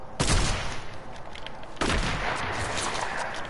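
Two loud sniper shots in a Fortnite match, one at the start and one midway, each a sharp crack with a long echoing tail and steady background noise between them.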